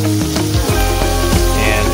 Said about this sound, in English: this is the fry rice cake that we're cooking right now.